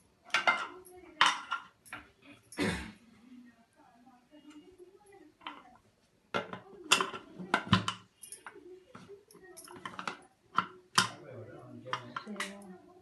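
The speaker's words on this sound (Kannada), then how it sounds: "ಕುಕ್ಕರ್ ಮುಚ್ಕೊಂಡ್ಬಿಡೋಣ." A pressure cooker lid is closed over mutton biryani in a home kitchen, with several sharp metallic clanks and clicks spaced among stretches of talking.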